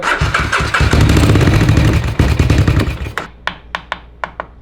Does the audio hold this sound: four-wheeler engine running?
yes